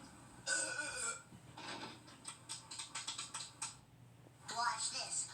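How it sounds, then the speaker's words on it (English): Loud, close cartoon-style burps in a burping contest, acted out with teddy bears in a Simpsons scene: one long burp at the start and another at the end, with light tapping and clicking between them. "The burp champion of the world."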